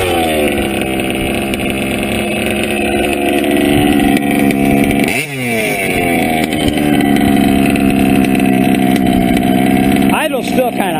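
A modified motorcycle engine on nitro idles high during break-in, a loud, steady buzzing drone that briefly dips and recovers twice.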